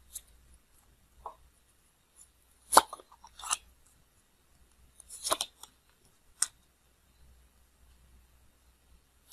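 Tarot cards handled and drawn during a reading: a few sparse, crisp flicks and soft slaps of card stock, with two small clusters of shuffling contact amid long quiet gaps, close and fairly faint.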